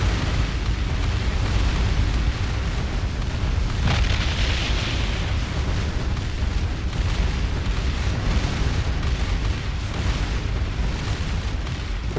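Spaceship in Distant Worlds Universe being torn apart by explosions, a continuous heavy rumbling roar of booms and bursts with a sharper blast partway through, no talking.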